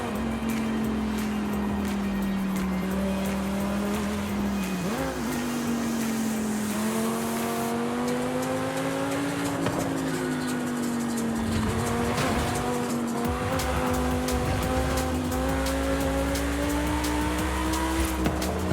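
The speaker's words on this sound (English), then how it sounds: "That V10 does sound very nice." A V10 car engine drones continuously in the Forza Horizon 5 racing game, its pitch rising and falling with throttle, with tire squeal mixed in under power.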